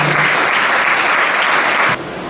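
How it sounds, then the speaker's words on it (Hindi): An audience at a college spirituality event in Mahasamund, Chhattisgarh gives loud, close, continuous applause to welcome a speaker onto the stage, and the clapping stops abruptly near the end. "आप तो भाई जी के लिए जबरदस्त ताली बजाइए और उनका स्वागत कीजिए"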